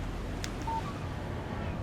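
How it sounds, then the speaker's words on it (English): A short electronic phone alert signals an incoming text message in the Alan Wake video game, one brief clear tone over a steady low background rumble, with no talking. "Text message from Barry"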